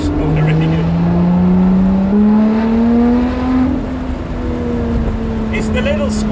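A Lotus Exige 430 Cup 'Type 49' accelerates hard out of a corner on a public road, its engine note climbing steadily and loudly from near the cockpit before settling into a sustained high drone, with a person talking over it.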